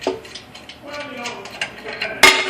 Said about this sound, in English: And getting the 4 main bolts off. So once you loosen those,